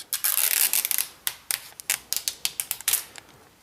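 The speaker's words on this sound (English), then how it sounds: "So let's go ahead and start peeling off this plastic" Protective plastic film peeled off a new Samsung Galaxy Tab 3 7.0 tablet, a close, quiet series of crisp crackling snaps and tearing ticks in irregular bursts.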